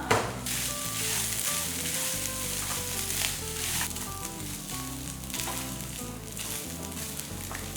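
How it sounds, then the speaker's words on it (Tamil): Food sizzles steadily in a hot pan while being sautéed for a turkey berry chutney, a continuous crackling hiss with occasional stirring scrapes, close and moderately loud. "போட்டு நல்லா வதக்கிக்கலாம் பாருங்கள்"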